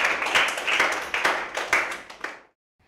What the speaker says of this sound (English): now give yourselves a big clap